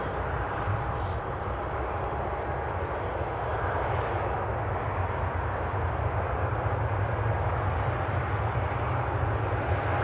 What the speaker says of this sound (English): Let's just catch our pushing back 737.